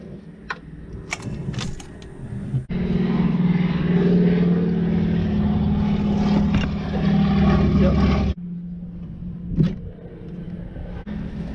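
An old biplane flies low over a cotton field while crop spraying, its engine droning loudly and steadily for several seconds between quieter stretches of outdoor rumble.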